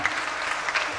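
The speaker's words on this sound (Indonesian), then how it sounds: "Tepuk tangan buat Mbak." An audience claps during a live wayang-style stage show, a brief burst of steady, dense applause with no speech over it.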